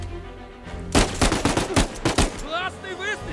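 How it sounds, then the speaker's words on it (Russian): Rapid bursts of gunfire ring out in the Uncharted 4 video game, a quick run of sharp, loud shots over about a second and a half, followed by a voice speaking. "Классный выстрел!"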